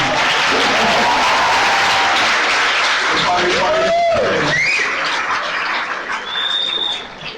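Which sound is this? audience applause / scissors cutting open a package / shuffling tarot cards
audience applause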